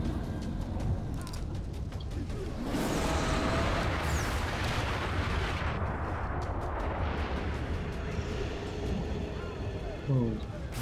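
Rapid gunfire and booming blasts from the video game Far Cry 3, fought against a huge ink monster, roll on loud and dense for the whole stretch under a layer of game noise, with a sharper burst near the end.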